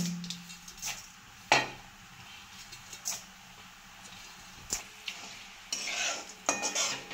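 Peanuts, urad dal and chana dal roasting in a pan, with a spoon stirring and scraping against the metal in irregular clinks over a faint sizzle, close and without voices.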